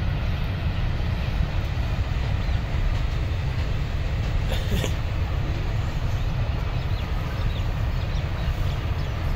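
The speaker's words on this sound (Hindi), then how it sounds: "ऐसे ट्रेन आ गई है" A long train rolls past in a village setting, a loud, steady rumble with a dense rattle of wagons that continues unbroken and close by for the whole stretch.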